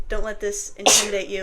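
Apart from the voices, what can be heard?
sneeze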